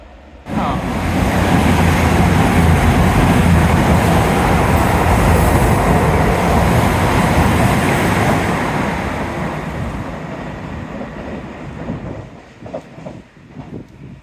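A Great Western Railway train of about nine coaches passes through Teignmouth station by the seafront, a loud sustained rumble and roar that fades out toward the end, leaving faint clicks and rail noise.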